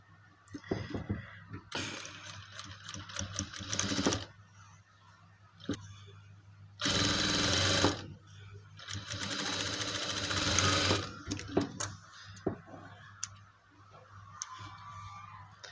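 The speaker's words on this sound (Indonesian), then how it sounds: "Kemudian kita jahit sekali lagi di sini." Sewing machine stitching the side pocket of trousers, close and mechanical, running in several bursts of a few seconds each with rapid needle clatter, separated by quiet pauses and small clicks.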